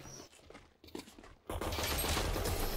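Gunshots in Valorant: a few isolated shots ring out against quieter game sounds, then heavy continuous firing erupts and stays loud and dense through the rest.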